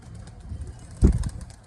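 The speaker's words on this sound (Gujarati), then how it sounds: "આજના માટે આટલે ઉડાડી નાખીએ આપણે આપણા કબૂતર." Domestic pigeons released and flying off at a morning release, giving a short muffled flurry of wingbeats near the middle over low background rumble.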